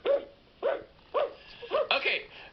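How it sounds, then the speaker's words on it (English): A dog gives a short run of about five bright, evenly spaced barks up close, the last couple higher and more excited like a greeting, with faint background noise between them. "then he has his hello bark,"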